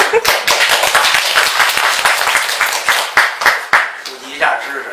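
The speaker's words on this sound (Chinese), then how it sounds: "这就是不应该鼓掌" Audience clapping at a Deyun Society solo crosstalk performance, quick rhythmic handclaps in separate bursts that taper off toward the end, over the sound of people talking.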